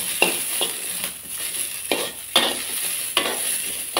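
Leftover dipping sauce stir-fried in a pan, a loud, close sizzle with repeated spatula scrapes and clinks against the pan every second or so.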